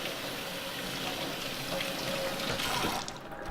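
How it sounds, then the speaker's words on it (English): Cool tap water runs steadily over a bar of felted soap being rinsed at a sink, a continuous splashing hiss that fades slightly near the end. "you're going to rinse it off with a little cool water"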